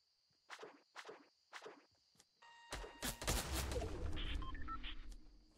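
Gunfire in the Fortnite video game: three spaced, sharp shots ring out, then a loud, dense burst of rapid fire with ringing echoes follows and fades into scattered crackles.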